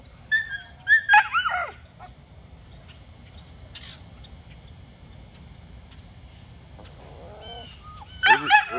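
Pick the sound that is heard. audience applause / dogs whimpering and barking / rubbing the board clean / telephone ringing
dogs whimpering and barking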